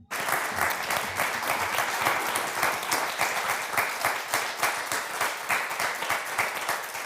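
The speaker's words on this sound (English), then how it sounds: "a lot of applause here for what you just said" Audience applause fills a climate justice session at a feminist foreign policy summit, a steady, dense roar of many hands clapping at even loudness throughout, with no voices over it.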